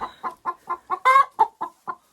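Hens in an unheated chicken coop on a frosty night, a close, steady series of about nine short clucks with one louder, drawn-out squawk in the middle.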